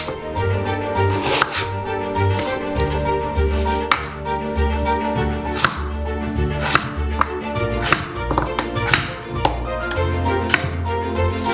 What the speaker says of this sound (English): Then cut them into medium-sized cubes.